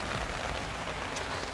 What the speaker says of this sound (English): Today is a rainy weather is going on in my place.